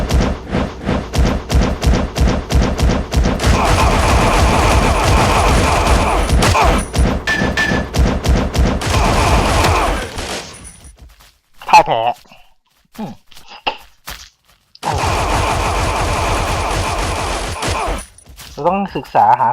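Rapid automatic gunfire in the blocky shooter game Blockade 3D, loud sustained bursts of fast repeating shots with a short break of scattered thuds and a single boom before the firing resumes.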